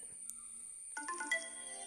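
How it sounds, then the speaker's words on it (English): A smartphone set ringing by a boAt Xtend smartwatch's find-phone function gives a soft, bright melodic ringtone that starts abruptly partway through, quiet and close, with no talk. "then you can see that our smartphone is ringing"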